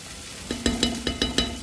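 Cashew chicken gravy made with cashew, coconut, raw lentils and sesame sizzles in a pan while a spoon stirs it in six quick, regular scrapes over a steady low hiss, close and fairly loud.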